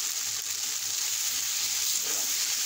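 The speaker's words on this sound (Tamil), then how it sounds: "வதக்கி விட ஆரம்பிங்க" Lemon vermicelli sautéing in a pan over a low flame gives a steady, even frying hiss, close and continuous with no distinct strokes.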